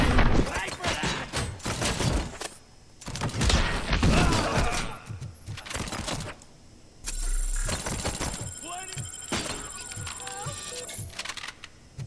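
Rapid gunfire crackles in bursts during a RoboCop: Rogue City firefight, sharp clustered shots with heavy thuds, mixed with voices talking over the battle.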